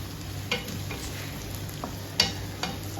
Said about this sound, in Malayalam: ഞാനൊരു നാല് സവാള സ്ലൈസ് ചെയ്ത് ആ ഓയിലിലേക്കിട്ട് വഴിച്ചെടുക്കുകയാണ്